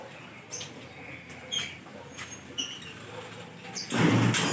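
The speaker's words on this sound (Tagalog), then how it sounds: "Oh, sobrang dami niya ng ibon." African lovebirds in an aviary give a scattering of faint, high chirps and squeaks at irregular intervals, with a louder rustle or thump near the end.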